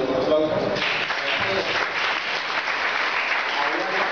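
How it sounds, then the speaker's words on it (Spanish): An audience at Barcamp Lima claps in sustained applause, a dense, even patter of many hands filling the room, with voices mixed underneath. "ahora ¡aplausos!"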